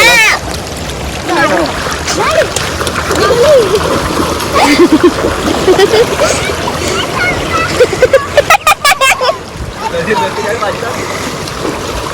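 Water splashes as people wade into the Sabarmati river during a water release from the Dharoi dam, with choppy splashing and outdoor water noise under near, continuous talking.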